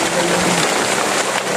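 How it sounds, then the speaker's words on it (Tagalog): Heavy rain pours down outdoors, making a dense, even hiss of falling water that holds steady and fairly loud throughout, with no words spoken. "Masyadong umuulan na, tol."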